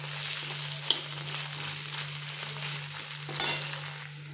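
Crushed garlic and chopped chili fry in a pan while being stirred, a close, steady sizzle with a couple of brief scraping knocks from the stirring over a constant low hum.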